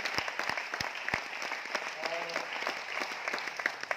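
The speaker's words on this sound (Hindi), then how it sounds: "तो जोरदार ताली से शुरुआत करते हैं।" Applause from a seminar audience, dense clapping with distinct sharp hand claps standing out up close, steady throughout with a faint voice briefly audible.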